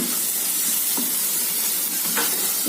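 Pieces of dried ghee fish (karuvadu) frying in a pan for thokku give a continuous dense sizzle, with a few faint stirring scrapes and no voices.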